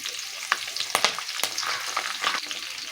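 Chopped onions, dried red chilies and curry leaves fry in hot oil in a pan for a cabbage stir-fry, giving a steady close sizzle broken by the scrape and clatter of stirring.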